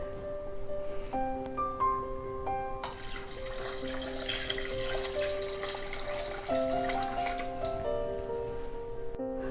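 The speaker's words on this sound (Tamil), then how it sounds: "நான் இப்போ இல்லை தண்ணி சேர்த்துக்கிறேன்." Water poured into a pressure cooker holding rice for chicken biryani, a steady splashing rush that starts partway through and runs to the end under continuous background music.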